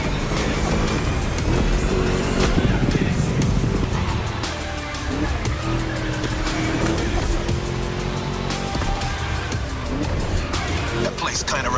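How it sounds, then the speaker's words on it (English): A V8 race car engine in The Crew Motorfest, a deep, rumbling roar that climbs and drops with gear changes over a full stretch of driving, with someone talking over it much of the time. "Just listen to that V8 like a chonky, down-tuned guitar riff."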